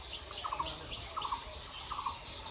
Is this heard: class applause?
no